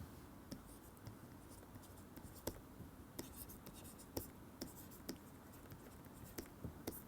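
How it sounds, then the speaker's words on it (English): Chalk or marker writing on a board during a physics lecture working through an integral, quiet scratchy strokes and taps spread irregularly through the stretch with no talk. "let me write it slightly more clearly"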